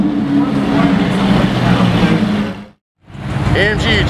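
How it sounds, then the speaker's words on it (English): A Mercedes-AMG GT R Roadster drives past on a city street with a loud engine roar that cuts off abruptly, then traffic noise returns with voices briefly heard. "AMG GTR Roadster"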